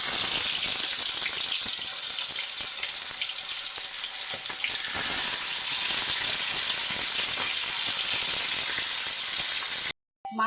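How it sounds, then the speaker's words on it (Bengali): Pomfret fish fry in hot oil in a wok, giving a loud, continuous, close sizzle and hiss that cuts off abruptly just before the end. "একে একে আমি পমফ্রেট মাছগুলো কড়াই তেলের মধ্যে দিয়ে দিই"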